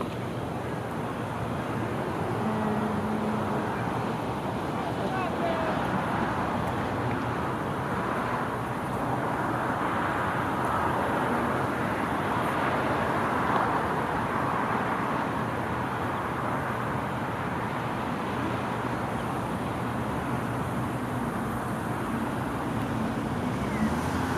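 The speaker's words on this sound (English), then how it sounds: "it's a little windy, like all my cards like blew around" Gusty wind buffets the microphone outdoors, a constant low rumbling roar that swells and eases without pause, no voices heard.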